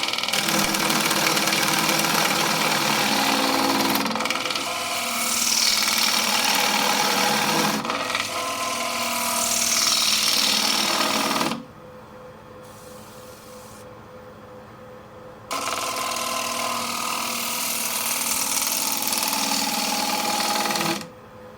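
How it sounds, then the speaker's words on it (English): A thin turning tool chatters against a wooden bowl spinning on a lathe, a loud, steady rasping whir that drops out twice briefly before resuming. "Now I'm getting a bit of a chatter because this is a thinner tool and I have a space here."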